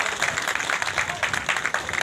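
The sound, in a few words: audience applause welcoming a minister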